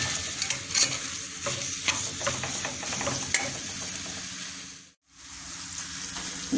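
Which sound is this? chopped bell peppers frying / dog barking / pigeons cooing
chopped bell peppers frying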